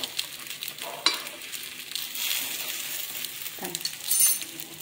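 Appe made from idli batter cooking in oil in an appe pan, a soft, moderate sizzle with a few light metallic clinks and taps of a spoon.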